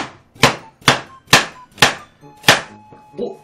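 Knife chopping food on a cutting board in a home kitchen, about six sharp evenly spaced thuds, close and clear, with little else in between.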